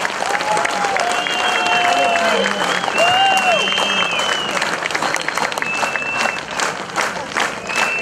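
An audience at a festival award ceremony in Zakarpattia gives a sustained ovation, dense applause holding steady throughout with a few brief tonal sounds over it before easing slightly near the end.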